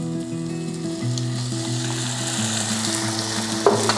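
Onions and jalapeno sizzle steadily in a pan for a vegan taco sauce, a constant hissing fry layered over a soft tonal background, with a small clatter near the end.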